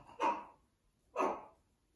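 Small dog barking indoors, two separate short barks about a second apart, moderately close but not loud.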